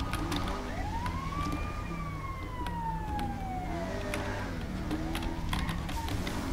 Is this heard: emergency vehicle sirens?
yes